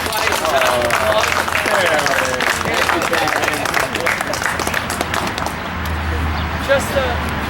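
Applause at a handball referee clinic, loud broadband clapping from a crowd mixed with some voices and shuffling, continuing for several seconds before easing off.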